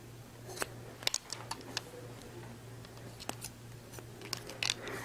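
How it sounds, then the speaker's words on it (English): Bonika shears snip hair during a haircut, giving a quiet series of sharp, irregular clicks and cuts over a low steady hum, close and faint, with no talk. "I want to take that hair, pull it straight up, and cut to my guide."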